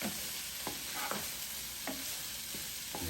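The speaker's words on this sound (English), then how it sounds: "Now I'm gonna put my peas in. Mix that up." Peas being stirred into Spam fried rice cooking in a Power XL pot, with a soft steady sizzle broken by several light scraping knocks of a utensil at irregular intervals, no speech.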